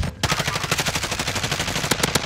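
Rapid automatic gunfire in Call of Duty: Warzone, a loud, close, evenly spaced burst of shots running nearly nonstop after a brief quiet start, ending in a few sharper separate cracks.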